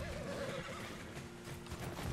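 A horse in the video game Red Dead Redemption 2 gives a loud, close whinny over a low rumble, followed by stamping hoof sounds.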